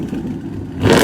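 A Dodge Hellcat's engine idles with a low, rough clatter, then surges into a loud, close rev near the end.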